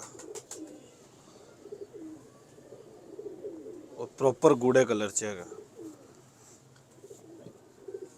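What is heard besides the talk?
Lal Pari pigeon cooing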